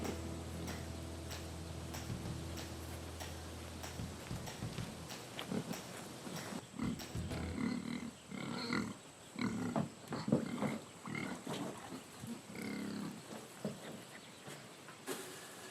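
Pigs on a farm grunting and snuffling close by in irregular bursts, with a steady mechanical hum early on and some rustling and knocking.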